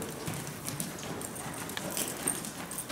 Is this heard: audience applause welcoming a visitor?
no